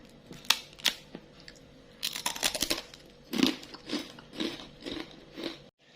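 Someone bites into thin, crispy dried-shrimp rempeyek crackers, with a few sharp snaps followed by a rhythmic run of crunchy chewing, close up and alone.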